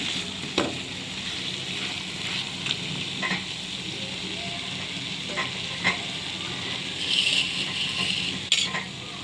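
Chicken frying in masala gravy in a pan, a constant moderate sizzle with occasional spoon scrapes and light clinks against the pan, no one talking.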